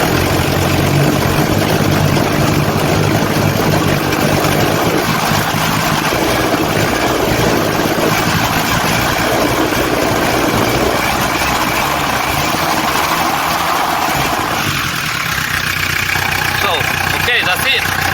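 A car engine fitted with a new, inexpensive timing belt idles steadily with a low, continuous hum and a few slight rises in pitch as it is revved a little, while a person talks over it.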